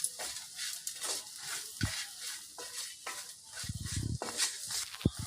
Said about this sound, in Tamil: இதை நம்ம நல்லா வதக்கிப்போம்.